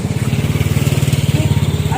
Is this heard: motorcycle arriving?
yes